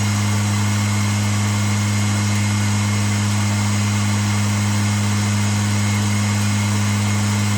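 A Tormach RapidTurn lathe turning metal between centres at a raised feed rate, giving a steady, even mechanical hum with a low motor drone that runs unbroken and fairly quiet, with no voices.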